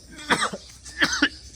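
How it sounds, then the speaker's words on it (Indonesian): A person gives two short, close coughs a moment apart, each a rough burst followed by a softer catch of breath, in a quiet room. "Sorry batuk."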